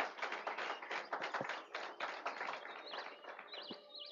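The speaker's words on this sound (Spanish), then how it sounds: "Dale ese aplauso al Rey de Reyes." Church congregation applauding during a Spanish-language sermon, a dense, steady wash of many hands clapping close and loud for about four seconds, with a faint whistle near the end.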